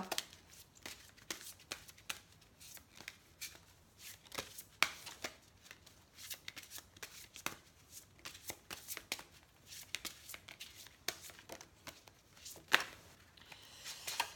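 Fairy oracle cards are shuffled by hand in quick, soft riffling flicks that keep going throughout, quiet and close with no voice over them.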